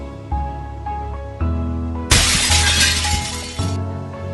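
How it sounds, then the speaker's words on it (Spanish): Glass shattering sound effect, one loud crash with a bright spray of breaking shards lasting about a second and a half, set against a quiet background of low tones with a few soft thuds. "similar a un cristal rompiéndose"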